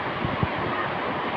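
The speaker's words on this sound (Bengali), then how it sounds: "প্রচন্ড ঝড় বৃষ্টি হচ্ছে" Heavy rain and gusty storm wind roar as a steady broadband wash, with a couple of brief low thumps of wind buffeting early on.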